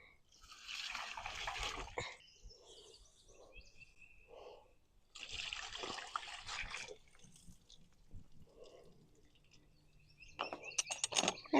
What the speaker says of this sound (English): They have water in them, and I'm just going to dump that out in my sink.